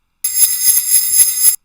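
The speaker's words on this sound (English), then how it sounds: "Probably not going to notice that too much on sleigh bells because they sound pretty much the same forward and backwards" A sleigh bells sample played backwards in Audiotool rings as one continuous bright jingling shimmer, loud and alone, starting and cutting off abruptly.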